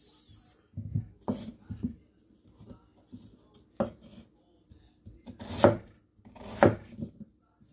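A dull kitchen knife chops potatoes into small pieces on a board, with irregular knocks scattered across the stretch and a few sharper, louder strikes near the end.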